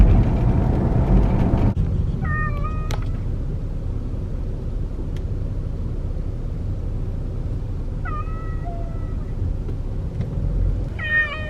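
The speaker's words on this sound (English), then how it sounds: "He's probably gonna meow the whole time." A cat meows a few times over the low, constant rumble of a moving car on the way to the vet, with quiet stretches between the cries.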